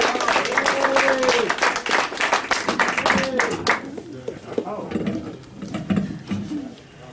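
An audience claps and applauds for a four-piece choir at a Nashville radio show intro, a dense burst that thins into scattered claps while voices speak over it.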